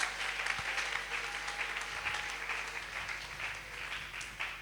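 A church congregation applauding during a French-language sermon on marriage, a steady, dense wash of clapping from many hands that stays even and full for several seconds, with no individual voices standing out.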